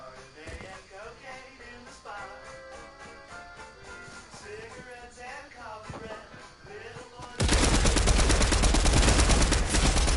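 Bursts of rapid gunfire in the video game Fortnite, a dense loud volley erupting in the last few seconds after a stretch of music and voice-like tones.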